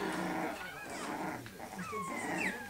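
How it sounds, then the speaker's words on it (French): Young puppies, Mia's seven-week-old litter, whimpering, yipping and growling close by in quick overlapping bursts as they scramble about. "tout le monde court partout, les bébés de Mia, j'entends"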